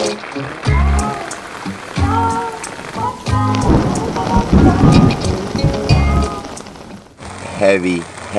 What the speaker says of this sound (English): Heavy, heavy, heavy rain. It's been raining like that for a few hours now